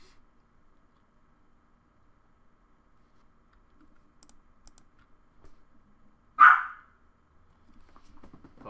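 A puppy gives a single loud, sharp bark in the middle of a quiet indoor card game, with faint clicks and light tapping around it.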